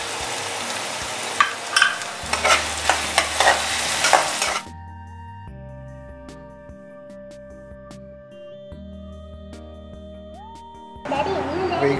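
Finely chopped onions sauté with salt in a pan, sizzling and scraped with a spatula up close; music cuts in midway, then the frying returns at the end.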